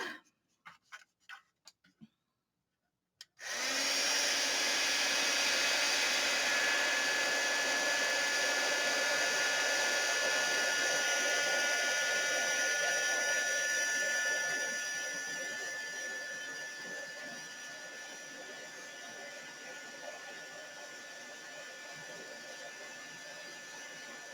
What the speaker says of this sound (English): And then I get my embossing gun.